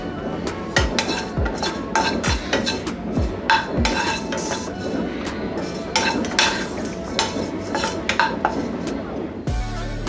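A spoon scrapes and clinks steadily against a pan as tamarind is stirred during dry roasting, with repeated metallic knocks and scraping strokes running close and continuous throughout.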